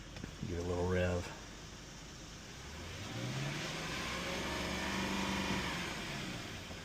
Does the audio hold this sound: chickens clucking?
no